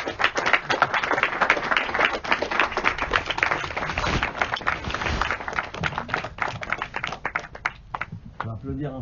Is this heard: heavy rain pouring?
no